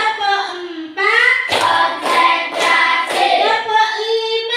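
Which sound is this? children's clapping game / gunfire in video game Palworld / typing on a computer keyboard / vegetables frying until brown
children's clapping game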